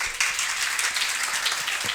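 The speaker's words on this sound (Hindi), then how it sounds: "तो सुनील भैया के लिए एक बार जोरदार तालियां।" A crowd at an institute gathering applauds Sunil bhaiya, a dense, steady patter of many hands clapping, fairly close and even throughout, with no voices over it.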